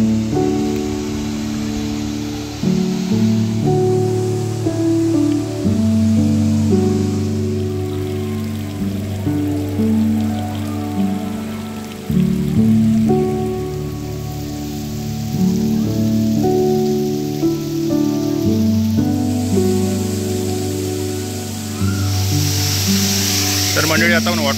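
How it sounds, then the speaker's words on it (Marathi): The Navankond waterfall at Talavade village, Devgad, Sindhudurg, gives off a steady broad rushing hiss of falling water with music playing over it throughout. "तर पाहूया आता आपण तळवड्या गावचं नावनकोंड हे वॉटरफॉल."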